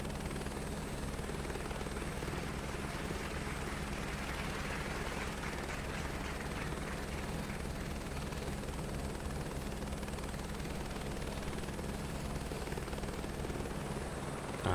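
Simulated helicopter in Microsoft Flight Simulator sitting on a helipad, a constant steady rotor and turbine drone with an even whine, unbroken and alone for the whole stretch.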